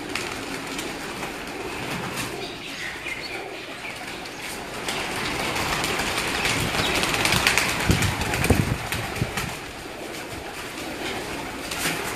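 Breeder pigeons on a rooftop in Gujrat district coo softly against a constant rumbling background of broadband noise that swells and fades over several seconds.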